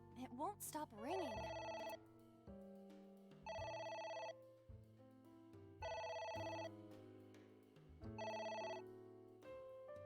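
Electronic ringing from a phone in the video game AI: The Somnium Files, four evenly spaced bell bursts with gaps between, opening with a brief swooping chirp.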